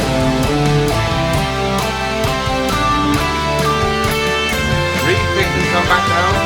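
Guitar runs through minor pentatonic shape 1 in steady quarter notes over a full backing track with drums and bass, the picked notes sitting clearly above the groove.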